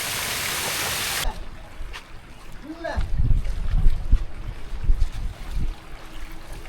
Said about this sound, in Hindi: ये देखो कितना झरना टाइप से मस्त बह रहा है।